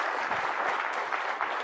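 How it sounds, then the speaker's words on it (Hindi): Audience at an Indian Railways event clapping in a steady, dense patter of many hands, moderately distant and even throughout, with no voices over it. "तो जरा ताली दिल से बजा लीजिएगा,"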